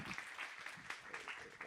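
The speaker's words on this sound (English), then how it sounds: "I just want to give David another round of applause." Audience at an artificial intelligence and central banking conference applauding: a brief burst of clapping, soft and somewhat distant, with a voice faintly underneath.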